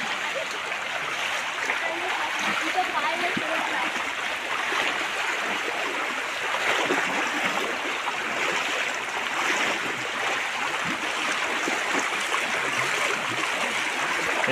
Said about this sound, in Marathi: पूर्ण वाहती नदी आहे पूर्ण मोठी खाली समुद्राला मिळालेली आहे